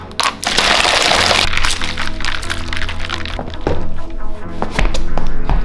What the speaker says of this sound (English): Extra few ice cubes.